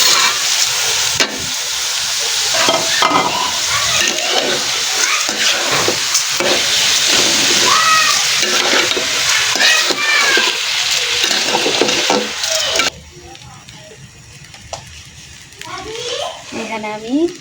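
Rice goes into a pan for Bengali bhuna khichuri and is stirred, giving a steady close sizzle with scraping under intermittent voices, including a child's, before the frying noise drops away near the end.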